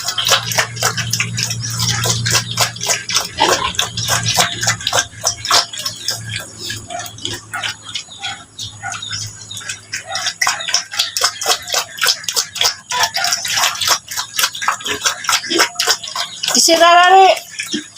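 Water runs from a broken faucet, a continuous splashing flow with rapid ticking and dripping over it and a voice talking nearby.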